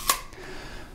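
A Nikon S2 rangefinder camera's shutter fires at a quarter-second speed: a single sharp close click, then a faint second click as it closes, alone in a quiet room.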